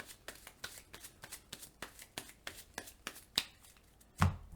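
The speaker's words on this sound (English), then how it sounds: "We're going to shuffle our discard pile into our deck." A deck of game cards for a Marvel Legendary deck-building game is shuffled by hand with a rapid run of crisp riffling bursts. A sharper snap and a thump close it out, heard close and alone.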